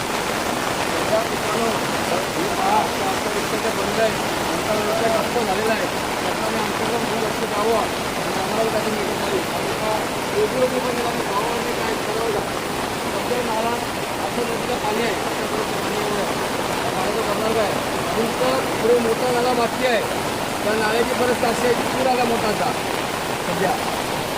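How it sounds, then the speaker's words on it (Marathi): Heavy rain pours down steadily over farmland, a loud, dense and unbroken hiss of falling water that continues without a pause. "बघू शकता कसला पाऊस पडतोय बघा"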